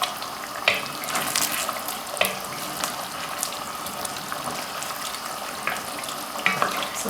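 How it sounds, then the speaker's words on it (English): Curry sauce for lamb and potato aloo gosht sizzles in a pan as it is stir fried, a close crackling hiss with scattered sharper pops and scraping stirs throughout. "So I'm just carry on cooking it and gently stirring it until all the water is gone and oil is separated from the sauce."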